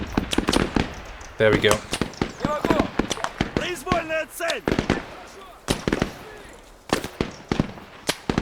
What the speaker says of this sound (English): Somebody is shooting at me, I just can't see where the shots are coming from.